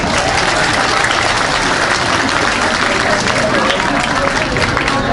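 An audience at an Islamic sermon breaks into loud, steady applause that fills the space evenly from start to finish, with voices faintly mixed in.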